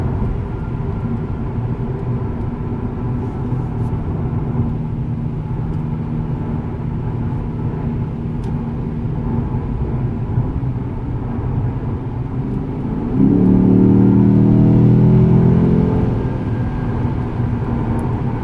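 A Lexus GS F engine drones with a steady low rumble while driving, then swells into a louder, deeper growl as it accelerates near the end, with no voices over it.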